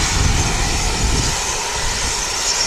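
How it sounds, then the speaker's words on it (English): Dash 8 turboprop arriving at Wellington Airport from Napier, a steady mid-distance engine drone with broad hiss and low rumble that eases slightly partway through. "So we've got a little dasher coming in from Napier."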